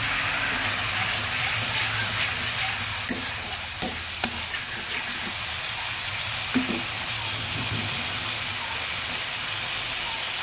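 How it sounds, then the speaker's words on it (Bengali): Spices fry in a pan for a fish-head and bottle gourd dish, a steady loud sizzle running throughout with a few sharp spatula clinks as they are stirred. "ভালো মতো নেড়ে পুরো মশলাগুলো ভেজে নিচ্ছি"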